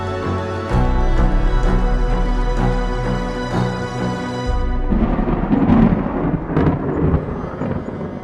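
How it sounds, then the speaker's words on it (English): Loud, deep thunder rumbles continuously, rolling and swelling before breaking into crackling peals that carry on over several seconds, with no speech. "thunder roared and lightning flashed"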